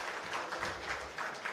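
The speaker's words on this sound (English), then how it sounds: "we want to give her a big round of applause." A security summit audience claps together in a short burst of applause with a soft, diffuse wash of many hands, heard faintly and from a distance in a large hall.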